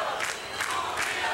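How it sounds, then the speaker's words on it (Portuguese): Crowd at Interlagos chanting for Rubens Barrichello at the 1994 Brazilian Grand Prix, a distant, rhythmic roar swelling in repeated waves across the grandstands. "E a torcida grita Rubinho,"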